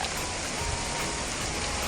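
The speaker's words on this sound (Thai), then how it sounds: "เวลาฝนตก ในสวนเราเป็นยังไงนะคะ" Steady rain falling on a garden with grass and weeds, a dense continuous hiss of drops on foliage and soil, close and even throughout with no voices.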